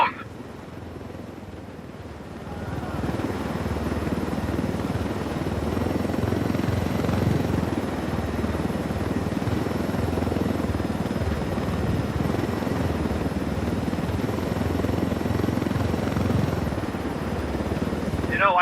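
A helicopter in the Ghost Recon Wildlands video game flies with a loud, steady rotor roar that swells in after a quieter start and holds for the rest of the stretch, with no voices over it.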